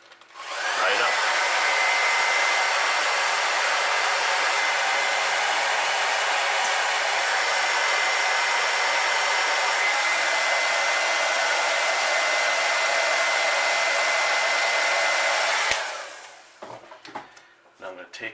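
A hair dryer runs steadily on stencil paint for about fifteen seconds, then cuts off, and a few light handling clicks and taps follow.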